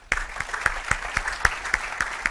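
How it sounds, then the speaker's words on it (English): Applause for a long-serving colleague retiring after 30-plus years, heard at a University of Tennessee architecture and design lecture. Sharp, evenly spaced claps ring out close and steady, with no talk over them. "let's give a round of applause to 30 plus years of dedication, Bob French."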